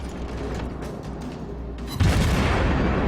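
Shell hits striking an enemy ship in the naval game World of Warships: a steady rumble of mechanical game noise, then a loud, dense boom of impacts at about two seconds that keeps the sound heavy and sustained to the end.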